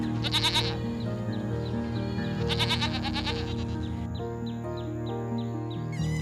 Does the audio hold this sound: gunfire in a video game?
no